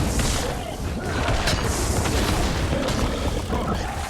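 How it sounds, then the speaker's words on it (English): A rocket punch attack in Guild Wars 2 lands as a loud, dense blast with a crashing, booming impact. Heavy rumbling effects fill the whole moment with no pause. "Rocket punch."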